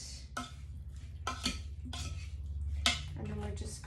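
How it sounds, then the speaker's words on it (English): A spoon stirs potatoes, onions and dill in a pan, making repeated soft scraping strokes and light clinks against the metal at a close, quiet level, with a few faint background sounds between strokes. "take this and stir it up, just get it good and mixed"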